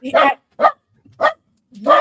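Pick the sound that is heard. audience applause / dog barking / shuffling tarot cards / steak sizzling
dog barking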